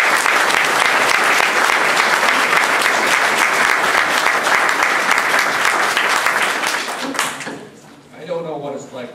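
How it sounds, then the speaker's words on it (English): Audience applause for political candidates at a Michigan candidate forum, loud steady clapping from a room full of people for about seven seconds before it fades out and a voice begins speaking. "I would like to give them a round of applause now and thank them for their service."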